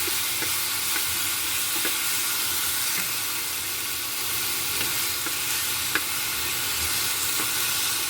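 Steady frying sizzle and occasional stirring as tomato cooks in oil in a pan for paneer and green peas kurma, continuous and close with small clicks of a spoon against the pan, no talking.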